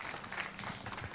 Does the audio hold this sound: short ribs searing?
no